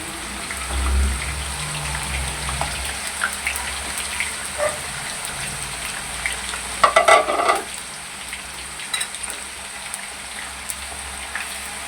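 Small diced potatoes and lengthwise-cut eggplant frying in a pan, a soft continuous sizzle with a few stirring clinks and a short burst of scraping in the middle.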